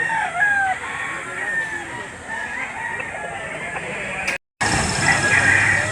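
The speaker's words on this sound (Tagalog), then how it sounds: "Napakagandang manok." A rooster crows among other chickens at a livestock auction market, wavering crow calls and clucks over a busy crowd hum with people talking, broken by a brief dropout.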